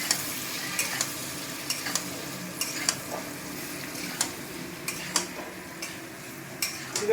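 Potatoes fry in a pan with ginger under a low, steady sizzle while a utensil stirs them, giving sharp, irregular scrapes and taps against the metal every second or so.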